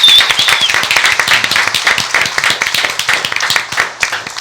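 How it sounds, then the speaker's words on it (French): Dense audience applause, many hands clapping rapidly and loudly, sustained for a few seconds without pause. "S'il vous plaît, applaudissements."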